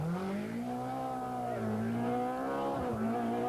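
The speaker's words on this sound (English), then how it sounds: "The engine sounds sweet, and the oil pressure reads fine." A rally car engine at the 1991 Circuit of Ireland Rally holds a steady, close drone, its pitch rising and dipping slightly as the revs shift, with a brief lift near the end.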